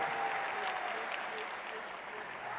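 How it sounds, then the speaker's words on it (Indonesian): Audience applause at an Indonesian political event for the Amanat Indonesia party ranks, a steady dense wash of clapping from a large crowd, fairly distant and even throughout, with a voice faintly over it. "Beri tepuk tangan untuk seluruh jajaran Amanat Indonesia."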